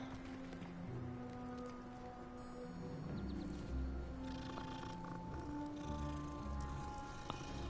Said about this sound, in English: Oh, a cat.